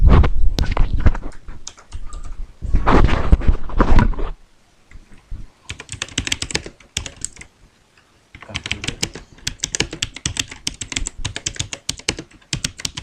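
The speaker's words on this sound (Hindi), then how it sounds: "यहाँ पे एक लाइन लिखता हूँ" Fingers type a line of text on a computer keyboard, giving loud, close clicking in quick bursts separated by brief pauses, with no voices.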